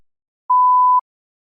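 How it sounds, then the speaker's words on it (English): A single test-prompt beep from a TOEFL practice recording, a clean steady electronic tone lasting about half a second, set between stretches of silence. "You may begin to prepare your response after the beep."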